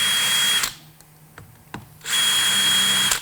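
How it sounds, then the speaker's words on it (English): A power drill marks the starting point for a hole in the wheel housing of an edge caster tag wheel, with two short whirring bursts at the start and end. Between them sit a quiet gap and a few sharp clicks. "You just want to mark it with your drill to start with."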